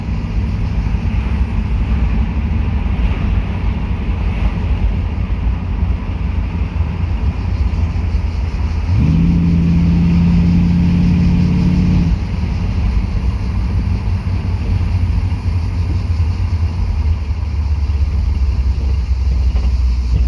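A Pontiac Firebird's 5.7-litre V8 engine drones loudly and constantly, with a steady rising tone in the middle as it pulls harder, then settling back.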